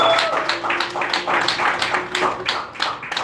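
Audience applause for comedian Marcelino Moose Hill at a comedy show, a steady wash of clapping running throughout with voices mixed in.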